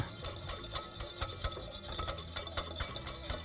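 A spoon whisks lemon juice into a salad dressing, giving quick, uneven clinks and scrapes close by, a brisk rhythm of light metallic taps against the bowl.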